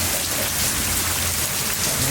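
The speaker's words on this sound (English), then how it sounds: "there's all the rain" Heavy Florida rain pours down in a loud, dense, unbroken hiss of drops drumming on surfaces, with no voices over it.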